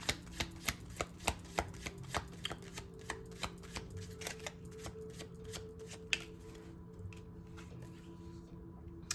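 Tarot cards shuffled by hand in a quiet room, a steady run of crisp riffling snaps close up, fading toward softer scattered flicks near the end over a faint background hum.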